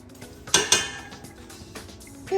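A metal spoon clinks against a lobster pot as garlic seasoning goes in, two sharp close clanks followed by softer scrapes and taps, no talking.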